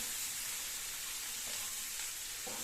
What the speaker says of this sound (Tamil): நல்லா காராமணி பயிரோட சேர்த்து நல்லா வதக்கிக்கணுங்க.